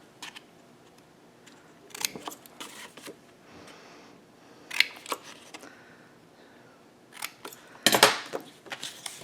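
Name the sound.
cutting out small squares from scored cardstock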